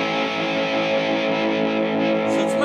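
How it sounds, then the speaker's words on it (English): Overdriven guitar through a Monkey FX pedal, a dense sustained distorted chord ringing loud and steady with rich buzzing harmonics throughout. "now you got this really pretty cool overdrive effect"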